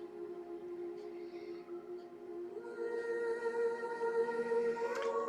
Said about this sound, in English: There are sirens going off now.